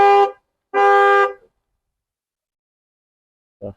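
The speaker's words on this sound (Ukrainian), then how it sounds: "Так, сигналізація спрацювала." A car alarm goes off at a vehicle auction in Moncton, Canada, sounding two loud, close horn honks in quick succession, then a long silence and the start of a third honk, with no talking.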